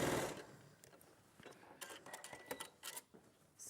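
A sewing machine stitches fabric pieces together in short, rapid, close mechanical runs of ticking clatter with brief pauses between them and no talking.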